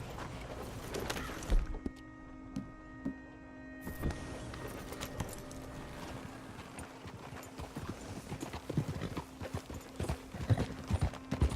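Rhythmic clip-clop of horse hooves trotting steadily, fairly close, in the video game Red Dead Redemption 2, with a constant low hum and scattered clatter throughout.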